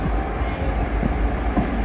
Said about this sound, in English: Arriving in now is terminating Transpennine Express